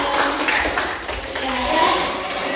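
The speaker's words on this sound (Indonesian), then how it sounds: "Oke, kita beri tepuk tangan." Children clapping their hands together in a classroom activity, scattered claps mixed with kids' voices and chatter, fairly close and lively throughout.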